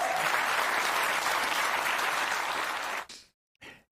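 An audience applauds a political speech about a libertarian revolution, with dense, loud clapping that fills the first three seconds and then cuts off abruptly. A brief burst of applause returns near the end.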